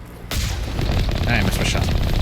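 A gunshot fired at Geth in the Mass Effect game: a heavy, booming report that starts abruptly and rings on with rumbling noise, loud and up close.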